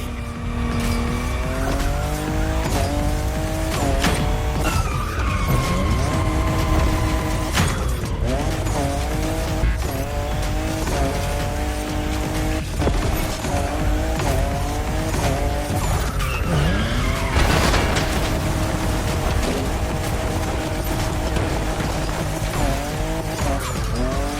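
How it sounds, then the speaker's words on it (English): Toyota Supra fifth generation racing in The Crew Motorfest video game, its engine roaring steadily with rising and falling revs through gear changes, tires squealing and skidding through corners, loud and continuous throughout. "in love with what Toyota did with this new Supra, the 5th generation of a myth."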